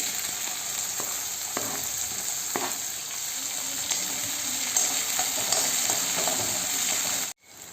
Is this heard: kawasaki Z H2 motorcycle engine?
no